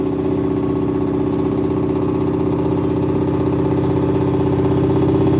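A truck descending a steep mountain grade in fifth gear with its Jake brake on the medium setting, giving a loud, steady, throbbing engine drone that stays constant and close with no break.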